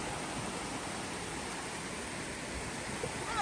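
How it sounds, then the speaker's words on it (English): Water flowing at a waterfall in Ghana, a steady broadband rushing roar that stays even and continuous throughout with no voices over it. "There's water flowing everywhere."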